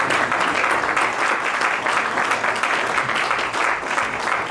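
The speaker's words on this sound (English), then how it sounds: "ESV Lekon Dosumo, please a big round of applause for him" Audience at an investiture ceremony for a branch chairman and executive committee gives a big round of applause, a dense, steady wash of clapping from a large crowd lasting throughout.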